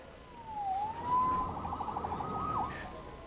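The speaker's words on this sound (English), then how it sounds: "Saved by the siren." A police siren wails from a moderate distance, its pitch rising and falling over a few seconds above a low rumble of city background noise.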